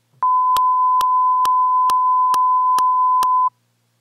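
FM synth tone from the Xfer Serum software synthesizer, a steady, loud, pure beep lasting about three seconds, with seven evenly spaced sharp clicks running through it.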